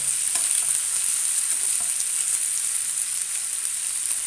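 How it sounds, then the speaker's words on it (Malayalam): Thin sandwich slices fry in a pan as they are turned, giving a steady, close sizzle and crackle with faint scraping from stirring. "എല്ലാം ഇങ്ങനെ മറിച്ചെടുത്ത് നമുക്ക് വറുത്തെടുക്കാം."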